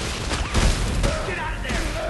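Rapid bursts of gunfire in the video game Dead Space crackle in quick volleys, mixed with in-game booms and players talking over the action.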